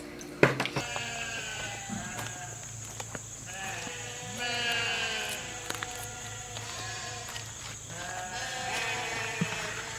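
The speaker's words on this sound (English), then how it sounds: "the sheep are going to provide some background noise" Sheep bleat repeatedly on a farm, several overlapping calls rising and falling across the stretch, fairly close and clear over a steady low background hum.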